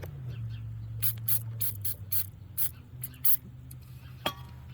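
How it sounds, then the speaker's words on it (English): Brake parts cleaner hisses from an aerosol can onto a leaking axle in several short, sharp bursts, with faint clicks and a low hum in the background. "take the brake parts cleaner and spray the area"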